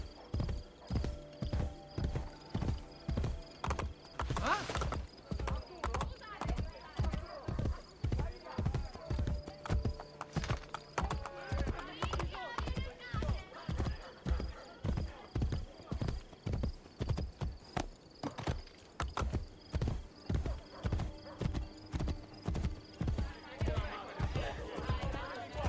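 Horse hooves gallop in a steady, rapid clip-clop rhythm in Assassin's Creed Brotherhood, loud and close throughout, with a brief whinny and some talking over the hoofbeats.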